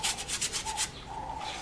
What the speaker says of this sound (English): So we're just scrubbing it in.